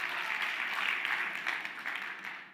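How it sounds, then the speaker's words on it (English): Audience applause during a talk, a steady wash of many hands clapping at a moderate distance that holds for a couple of seconds and then fades slightly. "Yes, applaud it."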